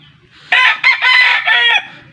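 Backyard chickens and roosters, kept for breeding, crow and cluck loudly and close by, with a single long crow-like call of about a second and a quarter that breaks off briefly and then carries on.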